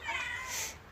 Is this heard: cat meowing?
yes